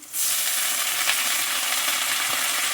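Drumstick greens dropped into a hot pan, a sudden loud burst of sizzling that settles into steady close hissing with light stirring, no speech.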